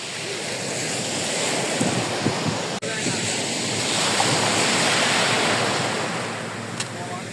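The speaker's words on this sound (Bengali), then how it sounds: "ঢেউয়ের যে শব্দ, এই শব্দটা কাছে থেকে একমাত্র উপলব্ধি করা যায় এবং অনেক সুন্দর।" Ocean surf washes onto the shore near the listener, a continuous dense roar that swells and recedes, with wind buffeting the microphone and a brief dropout midway.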